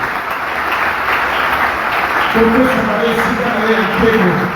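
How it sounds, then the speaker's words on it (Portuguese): A church congregation claps in praise, a continuous wash of applause heard beneath a voice that rises into sustained speech or singing. "Podemos aplaudir o Senhor."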